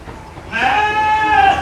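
A ewe or goat on a farm lets out a single drawn-out bleat, loud and close, with a wavering tone that lasts about a second over faint background noise.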